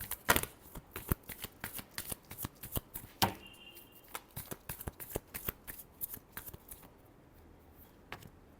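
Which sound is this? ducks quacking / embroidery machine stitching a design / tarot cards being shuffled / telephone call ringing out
tarot cards being shuffled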